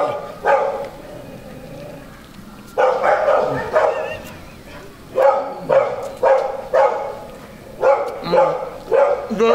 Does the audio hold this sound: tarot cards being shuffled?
no